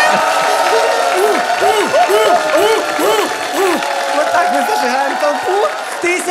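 A studio audience at a Ukrainian stand-up comedy show cheers, whoops and applauds loudly and continuously, with excited voices shouting over steady clapping throughout.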